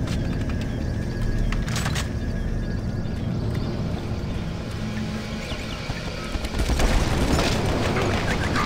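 In the video game Doom 3, chaingunner enemies fire in dense, continuous mechanical bursts with heavy booming rumble underneath, loud and sustained the whole time with a surge near the end.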